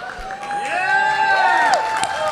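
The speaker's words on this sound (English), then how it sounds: "I did that for the applause." An audience at an anime voice actor panel cheers and whoops loudly, with excited rising and falling voices and some applause from a crowd.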